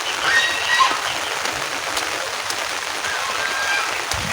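Steady rain patters on a surface with a dense, hissing wash, a few faint bird calls above it and no talking.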